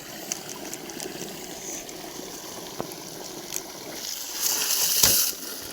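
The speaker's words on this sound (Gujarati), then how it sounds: "અહીંયા પાણી નીકળે છે અહીંયા વધારે વધારે કાઢે" At midnight on a farm, water gushes and splashes steadily from a pump outlet, a continuous rushing flow that swells louder toward the end, with no voices.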